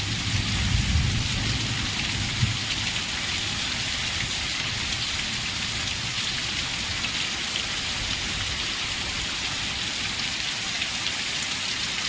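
Heavy rain pours down at night in a steady, dense hiss that stays loud and unbroken throughout, with no voices.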